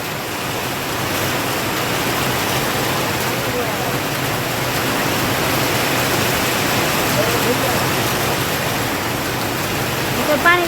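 A steady, dense roar of heavy rain, constant and loud throughout, with voices faintly mixed in.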